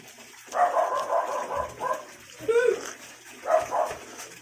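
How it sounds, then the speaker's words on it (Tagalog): A few short dog barks come from a distance, spaced apart amid a soft background hum and faint voices. "Rinig na rinig nyo. May aso pa."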